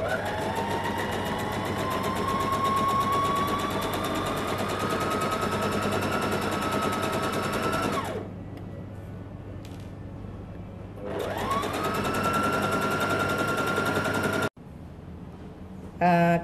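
Sewing machine stitching a 1.5 cm seam on a child's pajama, running loud and steady in two long bursts that wind up and down, with a short pause between and a brief break near the end.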